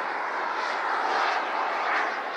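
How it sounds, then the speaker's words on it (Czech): Scale model MiG-29 Fulcrum jet flying at an air show, a loud steady engine roar that swells slightly as it passes, continuous and alone for a couple of seconds. "jeho MiG-29 Fulcrum. Nádherný stroj."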